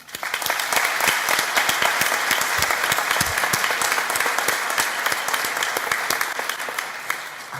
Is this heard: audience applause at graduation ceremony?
yes